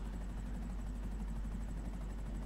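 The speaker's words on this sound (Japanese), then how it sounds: "ほらもうヘリでやってきてるや" A helicopter arriving in the video game GTA gives a steady, low rotor drone with a faint rhythmic chop, continuous and moderately quiet, with no voices.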